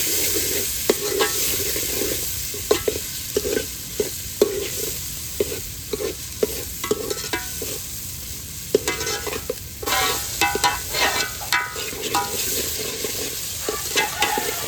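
Onions and potatoes cooking in a pan for a fish curry, with continuous loud sizzling broken by frequent scraping and clattering stir strokes, close by and with no talking.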